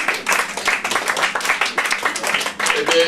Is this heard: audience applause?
yes